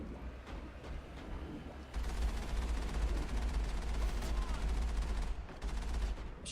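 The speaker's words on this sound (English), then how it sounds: "Machine gun accuracy is pretty bad." Sustained automatic machine gun fire from the Mass Effect video game rattles on steadily, growing louder partway through, with a low rumbling bed beneath.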